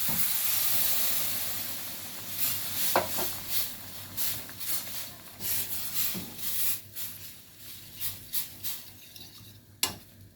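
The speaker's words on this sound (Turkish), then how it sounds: "Şimdi bir su bardağı sütümü ilave ediyorum" Milk poured into a hot pan with peppers and flour hisses loudly at first, then settles into a softer sizzle broken by steady bubbling pops and a few sharp clinks of a utensil; no voices.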